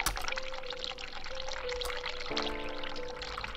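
Hot water runs steadily from a kitchen tap, a continuous splashing pour with a shifting tone as the flow fills and strikes the basin, loud and close with no talk.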